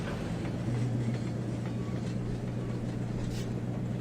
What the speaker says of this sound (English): Okay, so we'll just slow the train down.